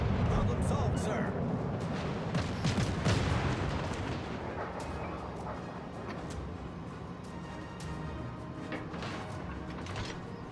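Battleship Mikasa fires its secondary guns in World of Warships Legends, a run of booming naval gunfire and blasts, loud and repeated early, then settling under continuous battle rumble as someone talks over it.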